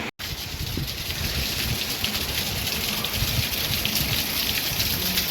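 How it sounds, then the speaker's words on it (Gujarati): Steady rain falls on New Year's day, a dense, even hiss of drops hitting surfaces nearby, continuous and fairly loud with no voices. "તો કાંઈ જોયું બેસતામાં વરસાદ પડ્યો હોય."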